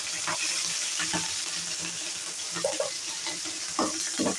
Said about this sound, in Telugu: పచ్చిమిరపకాయలు మొత్తం వేగాలి, మంచిగా ఫ్రై కావాలి.